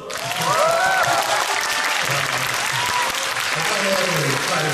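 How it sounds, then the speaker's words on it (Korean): Loud, dense audience applause during a film festival Q&A for the Korean film Hansan: Rising Dragon, a steady crowd clap with whoops and voices over it throughout. "박수 한번!"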